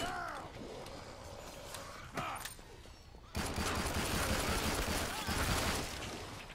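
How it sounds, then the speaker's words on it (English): Bursts of gunfire in Killing Floor 2 as a character is shot, rapid volleys crackling over game noise, loud and sustained through the second half with a person talking over it. "He getting shot."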